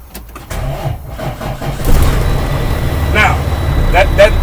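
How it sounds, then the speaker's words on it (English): A heavy truck engine cranks briefly, catches, and settles into a loud, steady rumbling idle close by. "I'm gonna crank up the vehicle."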